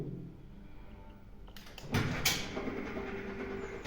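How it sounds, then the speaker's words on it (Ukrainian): An automatic door swings open on its own after a button press, with a few sharp mechanical clicks followed by a louder rattling, whooshing burst of movement over a low steady background hum. "І двері самі автоматично відкриваються."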